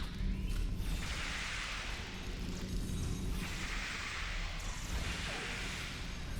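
Starship weapons blasting at their highest setting in the Star Trek Online space game: three long, loud roaring bursts with a whooshing hiss, coming back to back with only brief dips between them.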